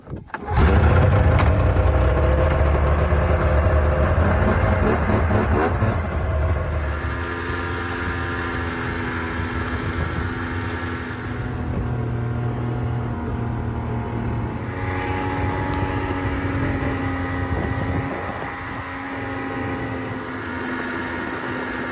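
A snowmobile engine starts loud and close, revs hard for several seconds, then settles into a steadier running drone with rising and falling revs, distant voices faintly audible.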